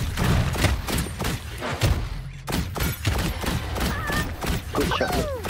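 Rapid bursts of gunfire in the battle royale video game Realm Royale, with a dense run of sharp, loud shots in quick succession over low rumbling and scattered in-game sounds.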